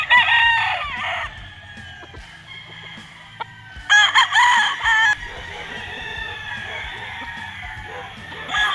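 Harold Brown Grey gamefowl rooster crowing loudly nearby, several drawn-out crows with one burst standing out around the middle, while other fowl call faintly in the background.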